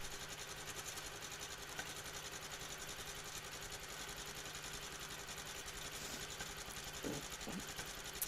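A quilting machine runs steadily, stitching very small stitches in a grid on a quilt, with a fast, even mechanical whir that holds at a soft level throughout, with no one talking.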